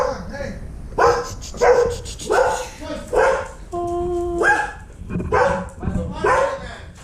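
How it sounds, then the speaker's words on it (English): Milo, a dog in a skater house in Phoenix, barks close by in a run of sharp, loud barks in bursts about a second apart, with a brief whistling tone in the middle. "Bark, bark, bark."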